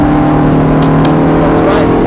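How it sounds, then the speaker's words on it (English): Ferrari F430 engine accelerating hard on the Thruxton race circuit, a loud, steady high-revving roar heard close up from inside the car, with faint speech underneath. "Squeeze on that throttle out towards the green cone."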